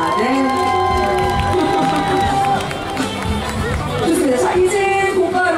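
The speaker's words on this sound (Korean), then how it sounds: "다시 한번 우리 노래자랑을 참여해주신 전 출연자분께 감사의 박수 보내드리겠습니다" A crowd at an outdoor singing contest during an awards ceremony at a space and aerospace festival claps and cheers, loud and dense, with music and voices mixing into the sustained noise.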